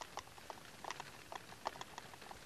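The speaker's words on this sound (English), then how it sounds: "the rain did arrive, and the animals huddled indoors, listening to it hammering on the roof" Heavy rain drumming on a farm building roof, heard as a steady faint patter with scattered sharper drops, with no voices.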